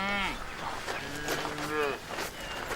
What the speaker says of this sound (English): Them cows came out of nowhere.